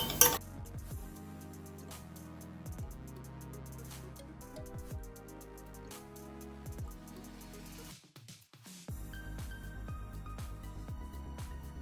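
A spoon scraping and clinking against a bowl while tomato ketchup, barbecue sauce, sugar and vinegar are mixed into a sauce for breaded baked chicken wings, with steady close stirring clatter, a short pause near the end, then more mixing.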